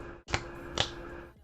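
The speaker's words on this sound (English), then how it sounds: "when you snap your fingers" Two crisp finger snaps about half a second apart, close and sharp against a quiet room.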